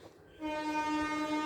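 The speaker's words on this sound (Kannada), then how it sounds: "ಸೊ ಟ್ರೈನ್ ಹಾರನ್ ಬಡಿತಾ ಇದೆ." A train horn sounds as a sustained, steady tone that begins abruptly after a moment of low background noise and holds evenly to the end at moderate loudness.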